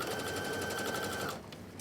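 Sewing machine running steadily as it stitches a standard seam on a pair of pants, a fast even mechanical chatter that stops short near the end, leaving a few faint taps.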